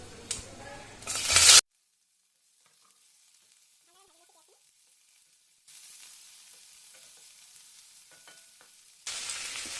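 Chopped onion hitting hot oil already frying bay leaf, dried red chilli, clove, cardamom and cinnamon gives a loud burst of sizzling, then a near-silent pause before a steady, moderate hiss of frying that swells again at the end.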